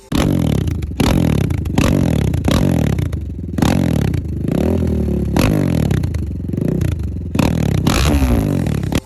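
A Geon GNS 250 motorcycle engine revs repeatedly in sharp bursts, each climbing and dropping, close and loud with brief pauses between blips.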